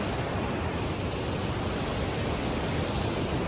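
The Hukratte waterfall rushes in a dense, continuous roar of broadband white noise, steady and close with no variation and no voices.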